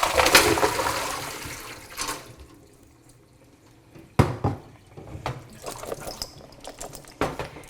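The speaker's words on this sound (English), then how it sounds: "we're going to drain the water here" Cooked vegetables drained of their water, with a loud splashing pour at the start, then quieter trickles, drips and a few sharp knocks against a sink or pot, no voices.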